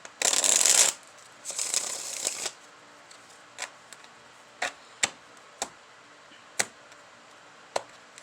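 Tarot cards are riffle-shuffled up close in two quick, crisp bursts, followed by a series of single soft taps and snaps as cards are laid down one at a time.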